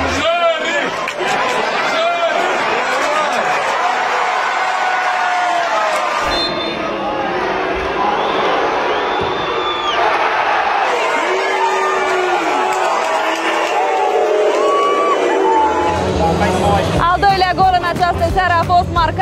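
A packed football stadium crowd roars and applauds Cristiano Ronaldo's famous celebration gesture, a loud, sustained wash of cheering, whoops and babble that swells again near the end.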